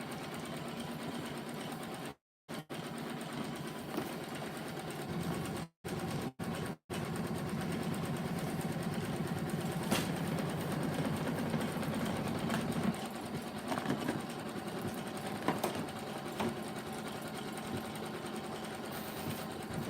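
A Janome Continental 17 embroidery machine with a 12x19 hoop sewing a block: a steady, close motor whir with rapid stitching, broken by a few brief stops near the start, then running on continuously.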